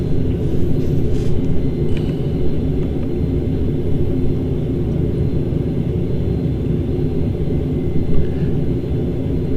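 ATR72-500 turboprop engines during descent in the Prepar3D flight simulator, a steady loud low rumble and drone that holds constant throughout with no talk.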